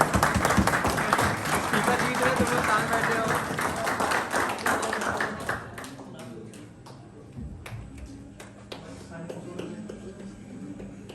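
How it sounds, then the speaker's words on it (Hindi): An audience at a university debate competition applauds loudly for several seconds, then the clapping thins to scattered claps as someone speaks briefly. "अरे बजाओ भाई ताली."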